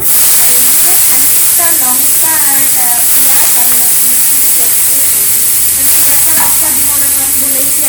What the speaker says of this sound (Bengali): এই যে আমার তেলটা গরম হয়ে গেছে এখন আমি সব চিংড়ি মাছগুলোকে ভাজা করে নেবো